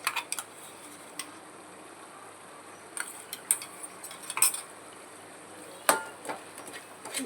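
Ginger garlic paste is stirred into onions and green chillies in a pan, heard as scattered light clinks and taps of a utensil against the metal, fairly faint and irregular, with no one talking.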